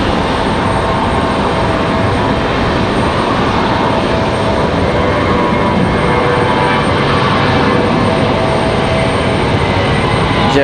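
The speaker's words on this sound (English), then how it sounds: "Sounds like a good sounding departure for the A320." A JetBlue Airbus A320 departing Raleigh Durham for San Juan, its jet engines a loud, sustained broadband roar that holds steady throughout, with no voices over it.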